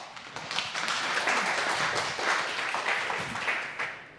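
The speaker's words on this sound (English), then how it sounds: "So please give him a round of applause." An audience at a tech conference talk applauds the speaker, dense even clapping filling the room for a few seconds before tapering off.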